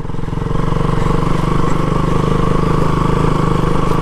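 A KTM RC 200 motorcycle engine runs steadily and loud while riding on a rough, dirt-like road at light throttle, with a continuous even drone and low pulsing throughout.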